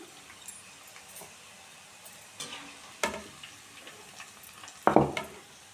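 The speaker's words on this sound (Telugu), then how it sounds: "క్రిస్పీగా ఫ్రై అయ్యేంత వరకు ఫ్రై చేసుకోండి" Ivy gourd (dondakaya) slices frying in oil until crispy give a steady soft sizzle, broken by a few louder stirring scrapes and clinks in the pan, close up.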